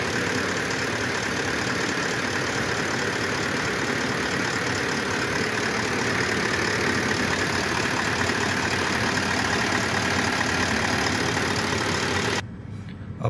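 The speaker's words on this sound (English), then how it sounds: "vehicle starts and idles fine" A 2018 Toyota Land Cruiser 79 with a 4.5-litre diesel engine idles steadily and loudly up close, a continuous even clatter that holds for the whole stretch before cutting out abruptly near the end.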